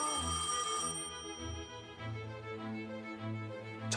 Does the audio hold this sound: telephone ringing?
yes